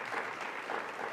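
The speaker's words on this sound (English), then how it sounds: "Let's give them a round of applause." Audience applause for council members at a public announcement event in New York City, a short burst of steady, dense clapping from a crowd.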